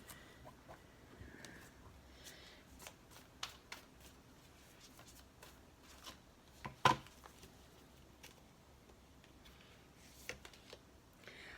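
Animal oracle cards are shuffled in soft, faint, irregular riffles and taps, with brief sharper card snaps scattered through an otherwise quiet room.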